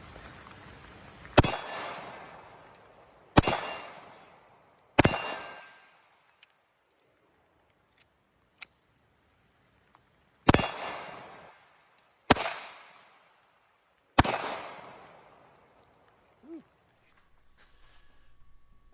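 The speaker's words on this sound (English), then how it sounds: "We're shooting 380. I've got a steel target." A Walther PPK in .380 fires at a steel target, giving six loud, sharp shots at uneven intervals with decaying echoes, mostly close, with quiet gaps and faint clicks in between.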